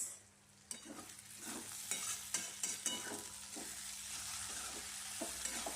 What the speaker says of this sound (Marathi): सारखं सारखं परतून म्हणजे असं हलवायचं, नंतर भाजी खाली चिकटते.